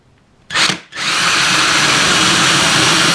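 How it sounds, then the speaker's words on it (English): A power drill with a 10mm bit bores a hole for a point motor on a model railway fiddle yard, giving a short burst, then a brief pause, then a loud steady whine close by. "Right, so we shall drill that."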